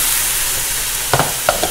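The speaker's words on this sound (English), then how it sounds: "I've been cooking the onions and the garlic for about 2 minutes now with non-stop stirring." Onions and garlic frying in a pan for pancit canton, a steady close sizzle with a few quick stirring scrapes near the end.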